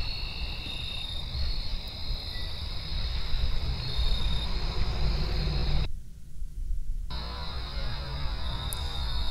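Crickets chirp in a dense, continuous high trill that runs steadily throughout, broken only by a brief gap of near silence partway through, with no voices.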